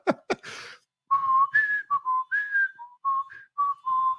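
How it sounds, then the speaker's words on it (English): A person whistles a short, halting tune alone, a handful of clear sustained notes rising and falling with brief pauses between phrases, close and fairly loud after a couple of quick clicks at the start. "I'm just going to whistle away here"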